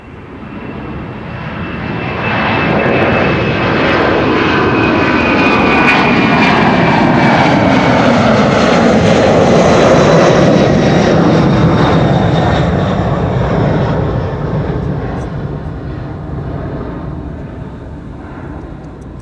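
An airliner departing Amsterdam Schiphol on runway 24 in the morning makes a loud jet roar that builds, holds strong with a whining tone across the middle, then fades as it moves away. No voices are heard.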